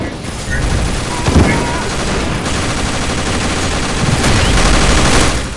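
Rapid video game gunfire from a Counter-Strike zombie escape map with a Crash Bandicoot theme, a dense steady stream of shots with a few louder bursts, holding at close, loud level throughout with faint voices mixed in.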